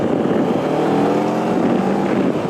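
A 2008 Honda VTR 1000 motorcycle engine gives a loud, steady, throaty roar that holds unbroken for the whole stretch, close by, with no voices over it.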